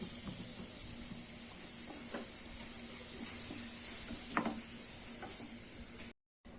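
Bananas frying in about two teaspoons of ghee in a pan, giving a steady soft sizzle and hiss throughout with a few light clicks and stirring taps, fairly quiet and without talk.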